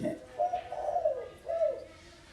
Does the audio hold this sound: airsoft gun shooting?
no